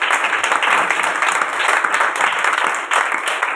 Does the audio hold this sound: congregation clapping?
yes